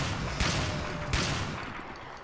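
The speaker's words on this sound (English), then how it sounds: "Let's try the shotgun." Two heavy shotgun blasts fired in the video game Trespasser, roughly 0.7 seconds apart, each a loud broadband burst over a dense, rumbling game background with no talk.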